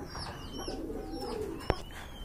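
Pigeons coo steadily at a pigeon farm, soft repeated calls with a few higher chirps over low background hum, and one sharp click near the end.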